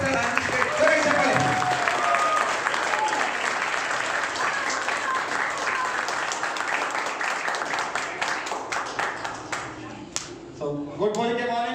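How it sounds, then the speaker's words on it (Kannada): An audience claps loudly and steadily for about ten seconds at a network marketing event, with a dense wash of hands. A voice speaks over it near the end as the applause thins out. "ಜೋರಾಗಿ ಚಪ್ಪಾಳೆ."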